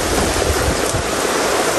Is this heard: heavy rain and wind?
yes